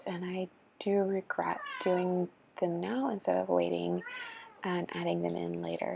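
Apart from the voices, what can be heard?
pet kitten Morrigan meowing while climbing a bulletin board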